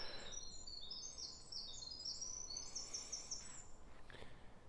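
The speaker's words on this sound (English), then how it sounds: "just like to listen to the birds." Birds chirp and call high and steady in a quiet forest along a hiking trail, several small songs overlapping at moderate distance over a soft, constant background hush.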